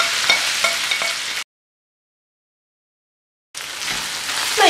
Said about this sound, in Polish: Kiedy zawartość patelni przyjemnie skwierczy i zaczyna się rumienić